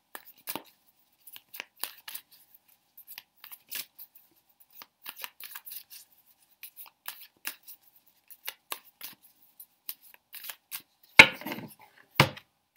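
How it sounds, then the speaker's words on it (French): Tarot cards are shuffled by hand in a quiet room, giving a series of soft, irregular papery riffles and flicks, with a couple of sharper, louder snaps near the end. "on mélange les cartes"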